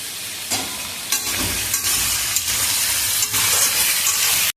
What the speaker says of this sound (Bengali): এরপর গোটা ফোড়নগুলো সব দিয়ে দেবে, তেজপাতা, দারচিনি, ছোটো এলাচ,